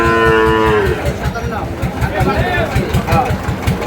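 At a livestock market, Friesian and cross-bred bulls moo once loudly and long near the start, with a low engine idling in the background and people talking.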